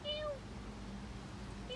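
A cat out on a street gives a couple of faint, drawn-out meows at the start and end, heard under a steady noisy background with a voice present nearby.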